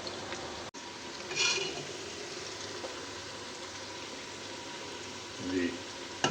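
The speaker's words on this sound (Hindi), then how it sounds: "आलू और प्याज को, ये देखें फ्राई होते" Potatoes and onions frying in a pan give a steady, moderate sizzling hiss, swelling briefly twice with soft clatters, while a voice talks quietly underneath.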